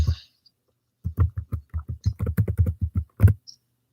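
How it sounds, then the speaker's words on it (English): Rapid keystrokes on a computer keyboard, a quick run of about twenty close, crisp taps over a few seconds after a brief pause, fairly loud and near, with no one speaking. "I'm putting it, and I'm gonna type it."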